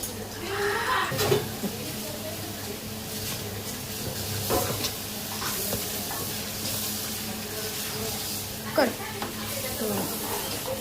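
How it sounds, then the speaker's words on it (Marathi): Rice just added to a pot of rolling boiling water for chicken pulao bubbles and hisses steadily up close, with occasional clinks and scrapes from the pot. "हे बघा पाण्याला उकळी आल्यानंतर आपण तांदूळ टाकले"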